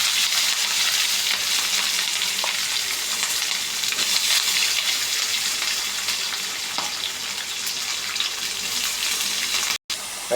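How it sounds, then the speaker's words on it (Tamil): Onions frying in hot oil with mustard seeds, cumin and pepper for a dried-fish and potato curry, giving a steady close, loud sizzle with occasional stirring clicks that continues unbroken until a brief dropout near the end. "வெங்காயத்தை சேர்த்தாச்சு நண்பர்களே. வெங்காயம் நல்லா ரோஸ்ட் ஆகட்டும்."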